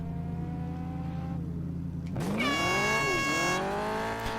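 Engine of a race car in the Test Drive Eve of Destruction game, a steady drone that drops, then surges into a loud rising rev with a dip and climb again, continuous and close.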